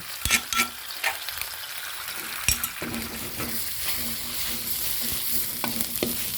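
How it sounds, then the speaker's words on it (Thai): Chili curry paste is stir-fried in coconut cream for a Thai panang pork curry, with a soft steady sizzle under repeated scraping strokes of a spatula against the pan, close and fairly clear. "เราก็จะเอาพริกลงไปค่ะ พริกลงมาผัดค่ะ"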